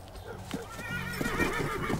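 A horse whinnies in a rising, wavering neigh while hooves clip-clop beneath, with a voice briefly audible at the start, in the video game Call of Juarez: Bound in Blood.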